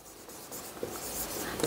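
Pen or pencil scratching across a maths worksheet in a class exercise on surface areas and volumes, soft short strokes with a slightly louder scrape near the end, no talk.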